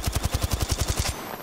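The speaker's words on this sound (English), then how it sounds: "Making contact with the enemy. I am taking fire, friends." Rapid automatic weapon fire from an Apex Legends firefight, a steady burst of about a dozen punchy shots in even rhythm, loud and close, cutting off abruptly.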